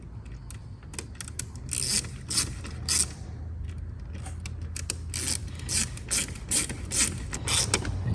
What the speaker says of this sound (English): you can go ahead and tighten up these hose clamps